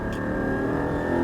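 Porsche 718 Cayman GT4 on the Le Mans Maison Blanche circuit in wet conditions, its engine droning steadily and loudly from inside the cabin as it gradually accelerates, with a sustained tonal whine above the rumble.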